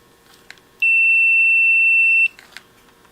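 A multimeter set to continuity gives a single sustained high beep lasting about a second and a half, loud and close, with small clicks of the probes just before and after.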